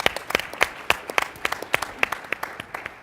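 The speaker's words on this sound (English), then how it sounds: "applause for that." Applause from an audience at a talk on state energy efficiency, made of sharp, distinct claps in a loose, uneven rhythm from a small group, fairly close and heard alone.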